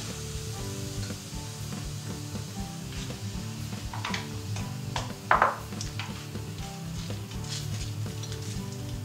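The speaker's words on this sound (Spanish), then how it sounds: "Y seguimos friendo." Sliced fleshy mushrooms sizzling in hot oil in a pan, a steady close crackle with occasional stirring clinks and a brief louder spatter midway, no voices.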